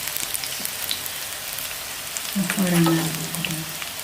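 Steady, dense crackling sizzle of banana pieces deep frying in oil, close and continuous, with a faint voice and a brief low hum midway.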